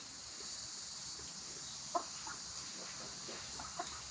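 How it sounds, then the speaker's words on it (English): Chickens on a tropical homestead yard give a few faint, scattered clucks, with a sharper call near the middle and another near the end, over a steady hiss of insects and outdoor background. "the chickens seem to be coming and going as they please"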